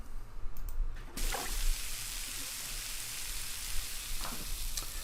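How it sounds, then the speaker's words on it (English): Oil sizzles in a deep fryer in a cooking game's restaurant kitchen. A steady, soft crackling hiss holds throughout, with a few sharper pops and no voices. "So we want to use the fryer"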